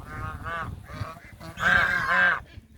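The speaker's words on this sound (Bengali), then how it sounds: "রাজহাঁসের ডাক" Several geese honk in a few short bursts outdoors, the last pair louder and nearer, with no one talking.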